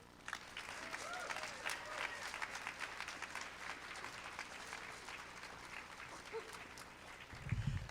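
Audience applause for storytellers at a college storytelling faculty concert, a moderate, continuous patter of many hands with a few faint voices mixed in, fairly distant and even throughout.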